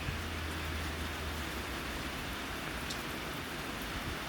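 Rain falls on the bayou and patters on a tin roof, an even wash of hiss throughout with a faint low hum early on and no talking.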